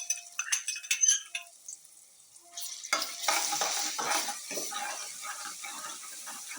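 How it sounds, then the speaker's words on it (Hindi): Ginger garlic paste frying and being stirred in oil in a pan for a turnip and meat curry, with a clinking utensil first, then a steady close sizzle and scraping stirs. "थोड़ा सा हल्का सा फ्राई करेंगे, थोड़े से ब्राउनिश हो जाए।"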